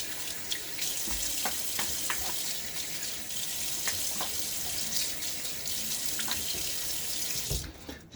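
Water runs steadily from a tap into a sink while the face is rinsed during a wet shave. The stream is close and continuous, with small splashes from hands in the water, and it cuts off at the end.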